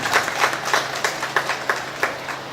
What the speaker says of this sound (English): And I wanted us to give her a round of applause